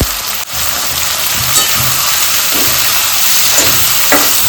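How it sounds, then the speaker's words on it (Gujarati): Cluster beans (guar) sizzle loudly in a hot pan, a constant bright frying hiss broken by periodic stirring scrapes and clinks, close and with no voices. "ગવાર નાખી દીધા મસ્ત જુઓ મિક્સ કરી લેવામાં આવશે"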